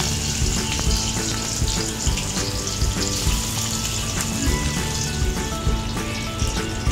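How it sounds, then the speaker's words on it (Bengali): Fish sizzling as it fries in hot oil in a wok for an everyday potato and tomato fish curry, a loud, dense, steady crackle of spitting oil with popping bursts, close and continuous with no talk. "মাছগুলো একে একে সেই কড়াইয়ের মধ্যে ছেড়ে দেবো ভাজার জন্য।"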